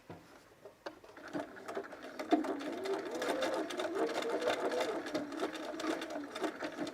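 A sewing machine backstitching picot elastic onto underwear, running in a steady fast whirring patter up close, with a few faint clicks before it starts.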